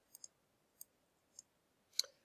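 A computer mouse clicks during mandala design work: several crisp, faint clicks spaced irregularly in a quiet room, ending in one slightly louder click.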